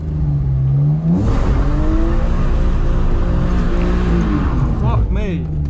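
A car engine revs hard through a donut during a drift session, steady and loud throughout with rising and falling pitch, under occasional talk from people inside.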